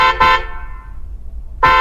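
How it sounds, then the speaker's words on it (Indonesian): A car horn blares two short honks close by, a bright buzzy tone with a gap of near silence between them, loud and alone without talk. "katanya suara klakson"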